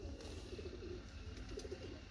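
A pigeon held in the hand coos softly, a low purring warble repeating through the moment, steady and close with no talking.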